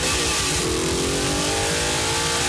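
A race car engine in the racing video game Project Cars revs hard, a loud, close, steady roar that climbs in pitch as it accelerates.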